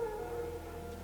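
Wild dogs howl in The Witcher 3, a steady drawn-out wavering tone sustained for about a second at moderate distance over low ambient game rumble, with no talk.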